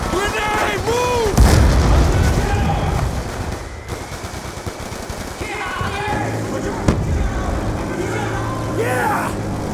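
Gunfire and grenade blasts in the Call of Duty: Black Ops II battle mission Fallen Angel, with loud bursts of shots and booms over continuous battle noise while soldiers shout orders throughout.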